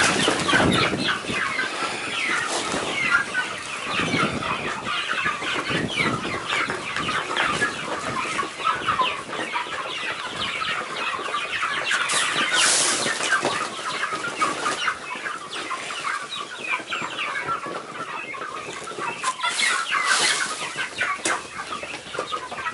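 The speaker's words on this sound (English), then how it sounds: "That's the chickens." Chickens cluck steadily up close, a dense, continuous chatter of a flock with occasional wing flaps and louder squawks.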